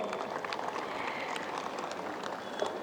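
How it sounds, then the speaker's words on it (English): An audience claps for students at a school Independence Day celebration: dense, steady applause throughout, moderately quiet, with scattered sharper claps and no distinct voices. "You can commend yourself and clap for all the students who are present there."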